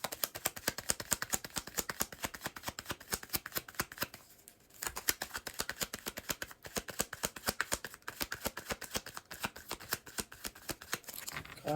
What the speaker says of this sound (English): Cards is shuffling.